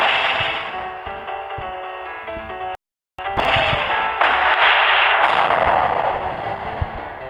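Video game gunshots in a round where two players fire at the same time, dense loud cracks and blasts filling the clip with a brief silent cut midway before the firing resumes.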